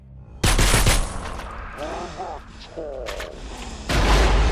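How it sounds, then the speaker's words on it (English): Loud, close bursts of gunfire and heavy explosions from the World War I trench shooter game Trench Tales, with a sharp blast at the start and another near the end, and a voice speaking briefly in between. "And sometimes they toss grenades at you. And you go kaboom."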